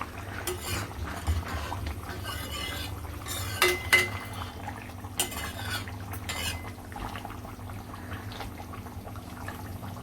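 A utensil gently mixes Kalet fish curry in a pot, producing soft intermittent scrapes and clinks against the metal, with a few sharper knocks in the middle and quieter stirring toward the end.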